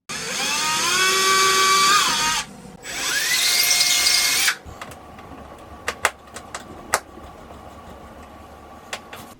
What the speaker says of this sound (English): we're going to go ahead and drill those holes.